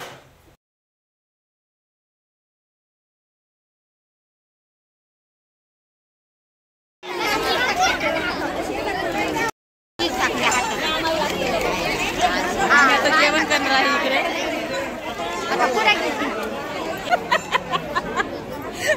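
A dense crowd chatters at a Ram Navami community meal, loud overlapping voices and babble filling the space after several seconds of silence, with someone speaking nearby.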